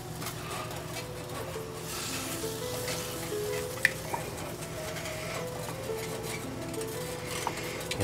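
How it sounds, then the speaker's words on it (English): Cream being stirred into caramel sauce in a hot pan, a soft continuous sizzle and bubbling with faint scraping and clinks, alone and fairly quiet. "we've got the cream in there, and stir it."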